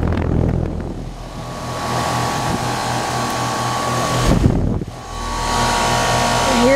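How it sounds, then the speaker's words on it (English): A 2006 Tempstar N2H3 5-ton heat pump with a big scroll compressor running in cooling mode, a loud, steady close-up mechanical hum and fan whoosh with a low tonal drone, briefly dipping midway before resuming. "This has got a big scroll compressor."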